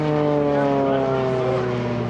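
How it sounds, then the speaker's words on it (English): A twin-engine airshow aircraft flies on its right engine only, the left shut down, giving a loud, steady propeller drone with a slowly falling pitch, close and continuous throughout. "So with the left engine shut down, the right engine running, David Martin"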